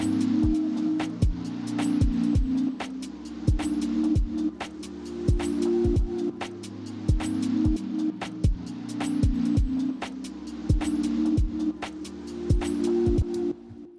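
A quiet electronic beat with crisp, evenly spaced clicking hits over a soft, hazy pad built from sampled noise and tuned to the key, a steady low drone sustaining underneath the whole time, with no voices.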